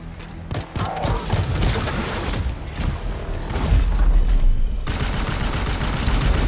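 Sustained gunfire in the sci-fi action game Anthem, played on PC: rapid overlapping shots and bursts crackle continuously for several seconds, loud and dense with booming impacts underneath, growing heavier toward the end, with no voices.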